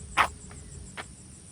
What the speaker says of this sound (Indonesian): Cuma ada bunyi jangkrik.